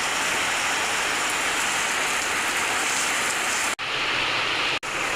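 Heavy rain pours down in a constant loud hiss close by, with no talk, broken by two brief dropouts near the end.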